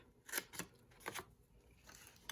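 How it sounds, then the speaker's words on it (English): Scissors cut through card stock while a paper craft card is being made, producing several quiet, crisp snips in a loose rhythm, close by and faint. "And then we're just going to cut that off."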